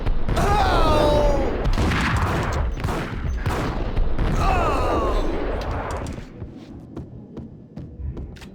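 Gunfire in the 2001 video game Max Payne, dense bursts of shots with a throbbing hum and some game voice, loud for about six seconds before dropping to quieter scattered sounds.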